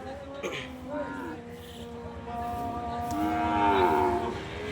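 Cattle moo loudly nearby at a cattle market in Bangladesh, long drawn-out calls rising and falling, with the murmur of a busy crowd and other animals in the background.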